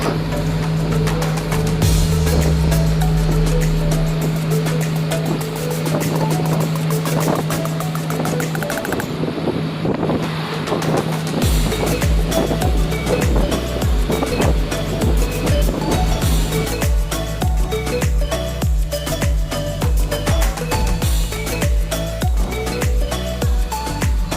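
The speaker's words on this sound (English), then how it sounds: "And yes, our tuk-tuk." Tuk-tuk rolling through Bangkok streets at night past the Grand Palace, a steady engine drone and road rush running throughout, with loud music playing over the ride.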